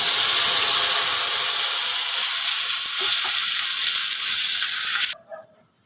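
Ginger-cumin paste dropped into a hot spiced-oil tempering for taro-leaf greens with chickpeas gives a loud, steady, close sizzle for about five seconds before it cuts off abruptly into near silence.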